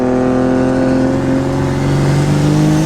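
A 2000 hp Cummins diesel-swapped OBS Ford pickup accelerating hard, its engine drone loud and close from inside the cab, steady and rising slightly in pitch with no talk.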